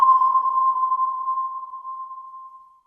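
A voice imitates a sonar ping: one clean, ringing mid-pitched tone that starts sharply, then holds and slowly fades away over about three seconds, heard alone with nothing else around it.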